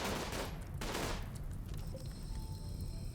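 Gunfire rattles in the colony game RimWorld as a dense burst of sharp shots, two heavy volleys up front, then a thinner ringing tail with faint electronic tones.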